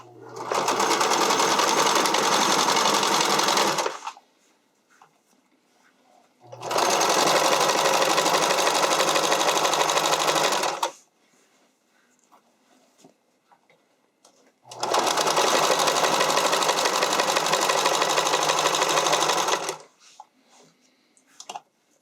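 A sewing machine stitches fabric for a figure skating skirt in three long, loud bursts of rapid whirring, each about four seconds, separated by quiet pauses.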